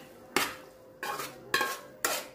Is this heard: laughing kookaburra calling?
no